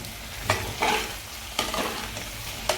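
Vegetable curry with homemade garam masala being stirred in a frying pan, with several distinct scraping strokes of a spoon over a steady low sizzle, close up and with no talking.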